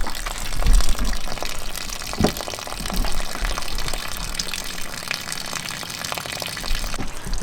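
Water gushes steadily out of a drained water tank on a converted skoolie school bus, a continuous rushing, splashing flow heard close by with no talking.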